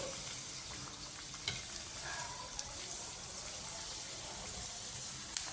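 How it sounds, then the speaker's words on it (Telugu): Veg momos deep-frying in hot oil, a steady fizzing sizzle running throughout at moderate level, with a few faint clicks on top and no voices. "డీప్ ఫ్రై చేయాలా దీన్ని"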